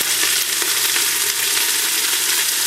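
Steady, crackling sizzle of onions frying in a hot pan, dense and continuous with no talking.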